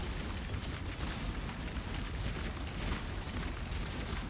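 Shaper Beam attack in Path of Exile, a dense continuous roaring blast of game effects, loud and unbroken with rumbling crackle throughout.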